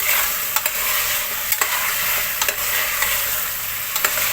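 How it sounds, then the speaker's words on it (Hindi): Mutton with turmeric sizzles steadily in a hot pan, with the occasional scrape and stir of a utensil, close and continuous. "पहले मैं डाल दूंगी हल्दी और इसको गोश्त को फ्राई करेंगे"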